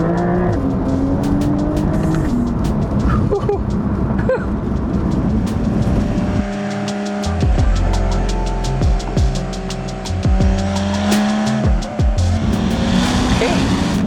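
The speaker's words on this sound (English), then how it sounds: "Comment if you like the exhaust note of this car." A Techart-tuned car's exhaust roars loudly through acceleration pulls, a sustained deep engine drone rising in pitch with gear changes and crackles, recorded close.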